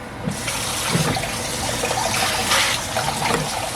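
Tap water runs steadily into a kitchen sink as apples are rinsed beneath it, a close, continuous splashing rush with small shifting gurgles and knocks throughout.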